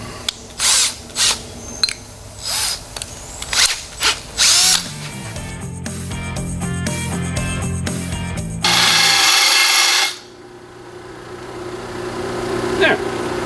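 Power drill with a worn bit in a classic Chevy truck shop, a series of short loud whirring bursts followed by a longer steady run, then a harsh high grinding spell before it stops.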